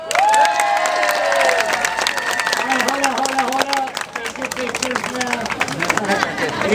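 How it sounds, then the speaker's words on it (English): A beach-show crowd claps along with cheering and shouts, dense hand claps under a voice over a busy outdoor babble, steady and fairly loud throughout. "Keep doing this now, everybody clap."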